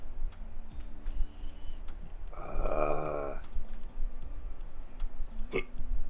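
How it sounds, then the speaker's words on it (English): Several short, sharp hiccups, irregular and close, from a person during a live pub quiz, with a quiet room tone between them and no talk. "I have the hiccups."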